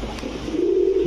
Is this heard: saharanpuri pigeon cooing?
yes